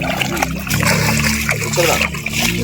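Large catla fish of five to six kilograms being released into a pond, splashing and sloshing loudly close by while people talk.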